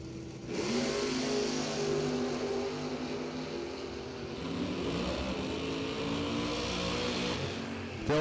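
Mopar drag race cars revving side by side at a door wars drag strip event, a loud sustained engine roar with rising and shifting pitch over distant crowd ambience.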